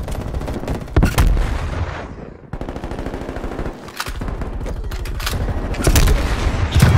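A thrown Semtex grenade and heavy gunfire in Call of Duty Black Ops Cold War during a Domination match on Express, with loud repeated blasts and bursts of shots packed close together throughout.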